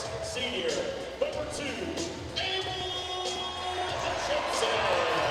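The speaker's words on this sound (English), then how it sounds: "Big crowd assembled here on the Wolverine side for this matchup with the Bentonville Tigers" Student crowd noise in a gym at a varsity girls' basketball game between the West Wolverines and Bentonville Tigers, a steady murmur with scattered shouts and whoops that continues under a commentator's voice.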